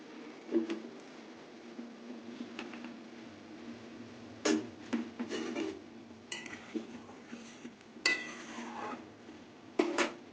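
A metal lid set over a cooking pot of simmering syrup, with several clanks and clinks of metal against metal plus lighter rattles of utensils, close and fairly quiet, no talk.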